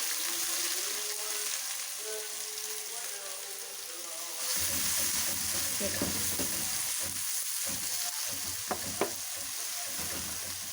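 Onions dropped into melted ghee for a Saudi kabsa, starting with a soft steady sizzle, then a louder burst of frying as they hit the fat, with stirring clicks and a brief spoken word.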